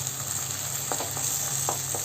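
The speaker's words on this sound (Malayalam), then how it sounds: "ആദ്യം മുട്ടയെ മാത്രം ഒന്ന് ഇളക്കി കൊടുക്കുക." Egg frying in a pan for Kerala thattukada-style green peas egg masala, a steady close sizzle with a few soft scraping stirs of the spatula, no voices.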